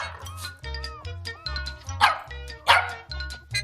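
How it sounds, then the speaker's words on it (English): A pet dog named Toto barks in a quick, steady series of sharp yips over a bouncy musical backing, with a couple of brighter, louder barks partway through. "Oh, and her pet dog"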